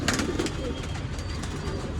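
Old line pigeons at a bird sale in Bangalore coo softly in short repeated calls over a constant, dense background hiss.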